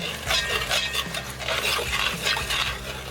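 A spoon stirs barbecue sauce with molasses in a container, making rhythmic wet scraping and sloshing strokes, close and fairly loud, repeating steadily for a few seconds.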